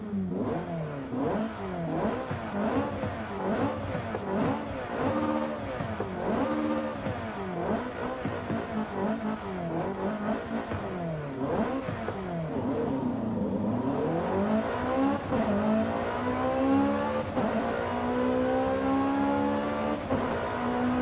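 An older Ferrari in Forza Horizon 5 revs hard through a long series of rising and falling engine sweeps, loud and close, ending in a sustained high climb.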